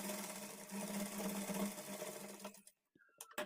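A sewing machine hums steadily while stitching a folded blouse edge, running close and continuous for a couple of seconds before stopping abruptly, followed by a few faint clicks.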